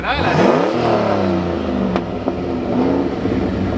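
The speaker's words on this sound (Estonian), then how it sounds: "see drifti auto häält natuke, vaata see antiläägi pauk" A drift car engine revs hard and close, rising then falling in pitch, with a couple of sharp anti-lag pops cracking through the roar.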